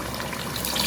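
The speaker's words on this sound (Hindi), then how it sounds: "पानी डालूंगी।" Water gushes briefly into a pot of browned beef nihari gravy, a close, steady splashing pour under a second long.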